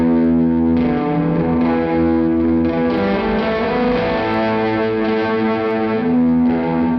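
A sustained, distorted electric guitar with a repeating delay effect, notes ringing and echoing into each other, loud and continuous throughout.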